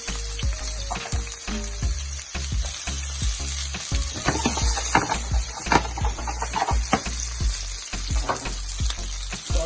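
Onion and spring onion fry in a pan for a Jamaican ackee dish, giving a steady close sizzle with frequent sharp crackles and stirring scrapes throughout, no voices.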